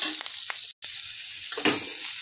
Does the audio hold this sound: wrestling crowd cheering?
no